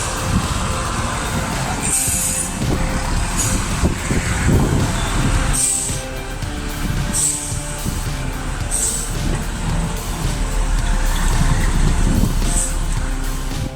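Heavy logging truck engine labouring under load, a steady loud diesel drone with deep rumble throughout, punctuated by short hissing bursts like air brakes, no talking.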